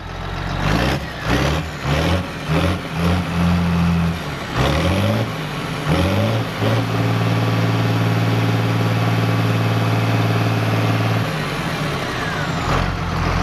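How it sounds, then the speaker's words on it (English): A straight-piped tractor engine roars loud and close, rising and falling in repeated throttle blips before settling into a long, steady high rev and easing off. "So the tractor is straight piped."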